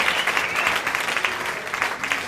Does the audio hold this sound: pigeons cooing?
no